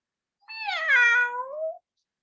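A single drawn-out meow, sliding down in pitch and lasting over a second, stands alone against silence; a human voice imitates a cat in a children's story about a dog.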